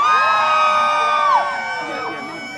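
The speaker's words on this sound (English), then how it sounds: "Ladies, scream." Wedding guests at a reception, women screaming and cheering as the bridal party is introduced; a loud, sustained chorus of high shrieks and whoops from a crowd, filling the room.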